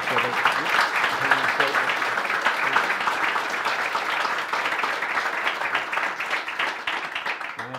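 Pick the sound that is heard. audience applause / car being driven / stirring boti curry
audience applause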